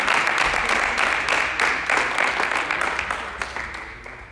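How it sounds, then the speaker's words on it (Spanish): A crowd applauds at an amateur fighting league weigh-in, giving dense steady clapping with sharper individual claps near the front that taper slightly toward the end. "Un aplauso, por favor"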